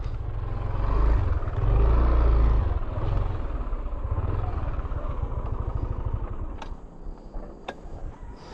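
A motorcycle engine idling and revving outdoors, a rough low rumble that swells loudly near the start and then settles into a steady putter, with a couple of sharp clicks near the end.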